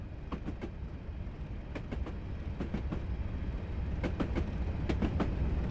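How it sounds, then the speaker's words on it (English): A train in Train Simulator rolls along the West Highland Line over a cattle underpass, steady low rumble with repeated clickety-clack wheel beats over rail joints in regular clusters, close and continuous without talk. "Train just passing over a cattle underpass now."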